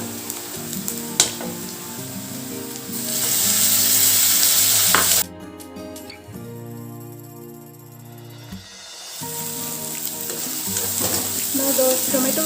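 Tomatoes frying in a spicy chicken masala gravy, with a steady loud sizzle and stirring that drops off midway, then builds back to a dense crackle near the pan.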